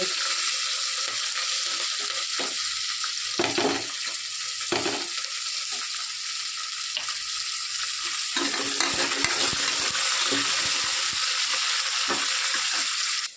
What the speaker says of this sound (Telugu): అలాగే తరిగి పెట్టుకున్నటువంటి పచ్చిమిర్చి కూడా దూరగా వేయించుకుంటున్నానండి.